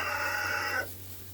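Chickens in a coop give off a steady, close clucking and crowing-like vocal tone for most of a second, which then stops sharply and leaves a low hum.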